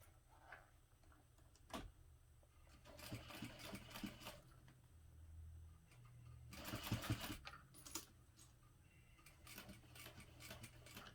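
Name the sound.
sewing machine stitching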